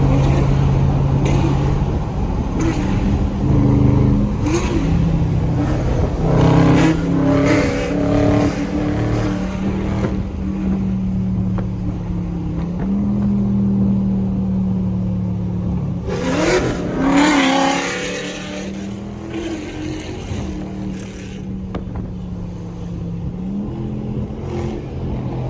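Stage 4 cammed Chevy SS V8 revving repeatedly in short throttle blips, its choppy lumpy idle rising into loud roars with a sharper burst midway, heard close throughout with no talking.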